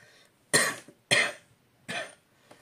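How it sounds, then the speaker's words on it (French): Three harsh, loud coughs close by, spaced about half a second apart, followed by a faint fourth. "Désolée pour la toux."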